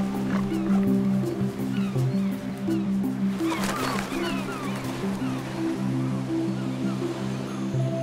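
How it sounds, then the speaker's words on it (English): Harbor seals and sea lions at a crowded resting spot far out in the ocean, with steady low barking and roaring calls layered over constant surf and wave wash throughout. "That's where harbor seals and sea lions like to rest and fight for the best spots."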